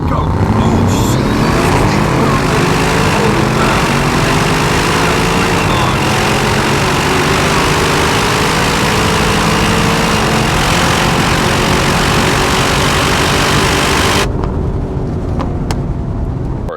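Aston Martin DBX707 SUV engine revving hard and accelerating on a road for a quarter-mile run, a loud, sustained rising roar that continues for about fourteen seconds before cutting off abruptly.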